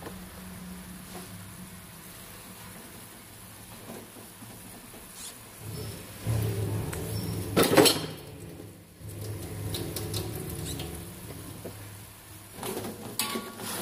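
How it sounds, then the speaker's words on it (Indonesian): Vegetables with salted mustard greens and sweet soy sauce stirred in a sizzling pan, with soft scraping and clattering spatula strokes over a low frying hiss, close by and without talking. "Kita aduk rata."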